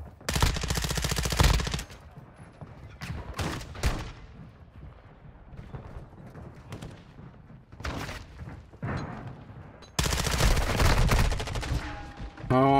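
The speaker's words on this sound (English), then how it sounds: "I got another team shooting at me" Gunfire from an opposing team in the video game Call of Duty DMZ: long loud bursts of automatic fire at the start and end, with sporadic single shots and thuds in between.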